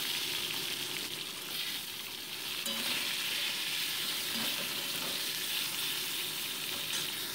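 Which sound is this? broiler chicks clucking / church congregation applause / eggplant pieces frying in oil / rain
eggplant pieces frying in oil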